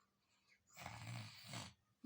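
A young child makes a loud, drawn-out snore, deliberately imitated, close to the microphone, with quiet breathing before and a short snort at the end.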